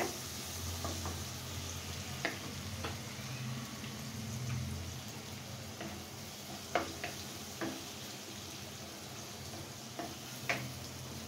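Onion, garlic and green chili fry gently in oil for a red amaranth greens dish, a soft, low sizzle with scattered pops and clicks from stirring, quiet and close, with no voices.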